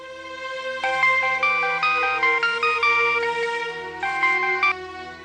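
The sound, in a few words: phone ringing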